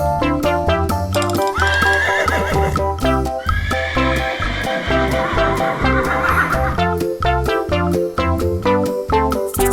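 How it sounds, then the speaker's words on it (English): A horse on a farm neighs and whinnies loudly and close, in long wavering calls repeated over a steady rhythmic backing beat, with no talking. "It's a horse. Horse. Horse."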